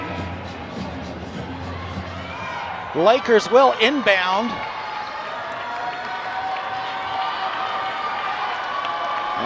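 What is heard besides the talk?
basketball crowd cheering and applauding in Convocation Center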